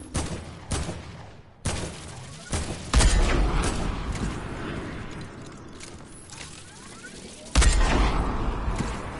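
Rapid bursts of video-game gunfire aimed at a UFO, loud and close, with sharp volleys at the start and a heavy sustained stretch of shooting in the middle and near the end.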